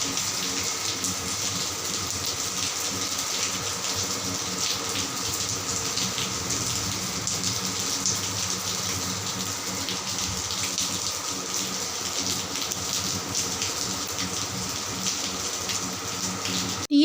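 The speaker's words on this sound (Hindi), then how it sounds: "तेज़ बारिश, इतनी तेज़ हमारे मौसम बहुत बहुत अच्छा हो गया था।" Heavy rain pours steadily for the whole stretch, a dense, even rushing wash of water with no break and no voices.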